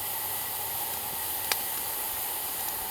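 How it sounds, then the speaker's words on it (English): Water heating in a pot on a wood-burning camp stove, close to boiling, gives off a steady, soft hiss with a faint brief pop partway through, heard alone with no talking. "the water is actually making sound, like it's getting ready to boil"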